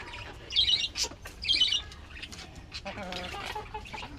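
Chickens squawk and cluck in a few loud bursts nearby, followed by softer bird chatter.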